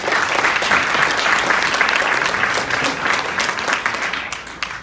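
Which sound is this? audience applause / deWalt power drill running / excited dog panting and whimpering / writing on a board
audience applause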